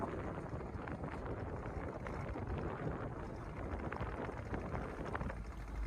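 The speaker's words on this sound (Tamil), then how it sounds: "காத்துதான்" Wind roars steadily over a boat on the open sea during a 3 km ocean trip, a constant broadband rumble with no voices.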